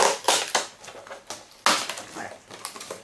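Crisp crackling and crunching bursts come from packaging being pulled off a Primark Dumbo snow globe, close up, in uneven handfuls with short pauses and no voices.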